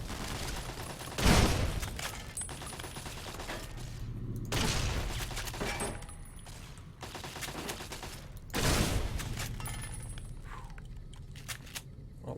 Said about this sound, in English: Oh good, they're shooting each other.